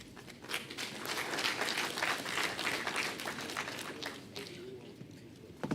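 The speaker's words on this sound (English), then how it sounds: "A round of applause to our Honorable Minister and our DG" Applause for the Honorable Minister and the DG at a public presentation on the 2023 Appropriation Act, a moderate wash of clapping from the audience that holds steady and tapers slightly toward the end.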